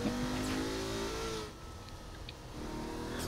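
Car engine from Saints Row The Third, revving steadily with a rising pitch, easing off briefly mid-drive and then picking up again, loud and close with no talk.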